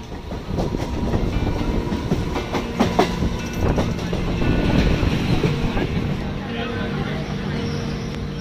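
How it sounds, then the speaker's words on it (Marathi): A train rumbles along with a steady roar and rhythmic clatter of wheels on track, carriage noise continuous throughout, on a ride past Mandeshwar station in Maharashtra, India. "so without wasting time let's start the video"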